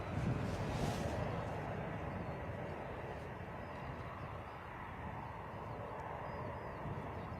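Embraer airliner on a crosswind approach or departure at Bristol Airport, a steady broadband jet engine roar with wind noise that holds at a fairly constant loudness throughout, heard from a distance.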